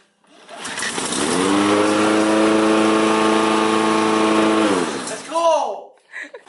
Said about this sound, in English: We just fixed a lawnmower, that's how our day went.